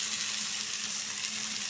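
Brinjal pieces sauté in a hot pan for a Tamil sundakai kara kuzhambu, giving a steady, close sizzle and hiss with no talking.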